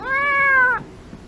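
A restrained cat at a veterinary clinic lets out a single loud, drawn-out meow up close, the cry falling off abruptly into quiet.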